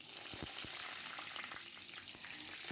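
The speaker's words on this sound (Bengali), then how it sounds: "এখন ওই তেলটার মধ্যে একটু জিরা ফোড়ন দিলাম," Cumin seeds and a bay leaf dropped into hot oil left from frying prawns, giving a loud, even sizzling hiss with a few brief pops throughout.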